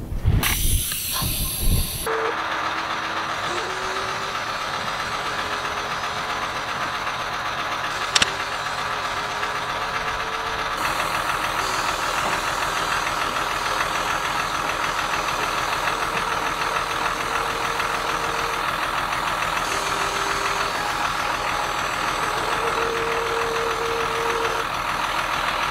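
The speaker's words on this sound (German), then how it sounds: "Jetzt muss erstmal die Maschine wieder laufen, dass der Kompressor ordentlich Druck macht." An expedition vehicle's engine idles steadily to run an air compressor for lifting with air bags, a loud, continuous mechanical drone with a constant hiss. A short burst of noise opens it, then the hum holds unbroken.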